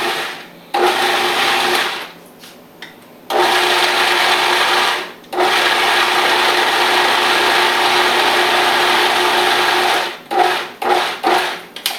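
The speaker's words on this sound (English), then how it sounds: "now we're just going to process this in the food processor until it is puree" Food processor pureeing sweet potato soup: a loud, steady motor whir that runs in long bursts of several seconds, separated by short pauses and ending in a few quick pulses, with no talking.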